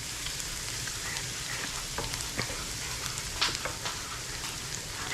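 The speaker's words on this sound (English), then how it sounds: "fry it up until browned" Meat fries in olive oil with minced garlic and a pinch of salt for a Bolognese sauce, giving a steady, soft sizzle with scattered light crackles and the odd stir, close and alone.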